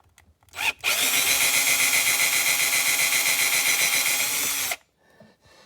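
A power drill fitted with a brad point bit whines loudly for about four seconds as it bores into a classic 1978 C3 Corvette dashboard, starting after a short blip and cutting off abruptly.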